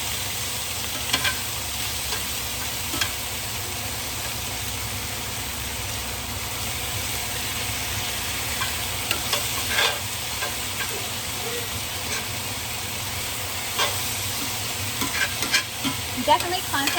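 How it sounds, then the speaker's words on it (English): Apples and onions fry and sizzle in a pan while being stirred constantly, a loud, dense crackling hiss running throughout with occasional scraping and clinks. "Definitely constantly stir so you're not burning your apples like I am."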